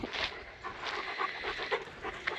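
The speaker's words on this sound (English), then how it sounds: "There's one hyper dog." An excited dog pants rapidly and close up on an off-grid Portuguese homestead, quick breathy huffs in a continuous rhythm with no voices.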